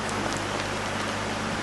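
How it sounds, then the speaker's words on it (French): Steady rain falling outside, a dense continuous hiss of drops with an even level and a low hum beneath, no voices. "je crois qu'une fois de plus, la pluie a déclenché"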